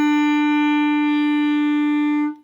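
A clarinet holds a single sustained E, steady and clear with rich upper harmonics, for about two seconds before cutting off cleanly; no one speaks.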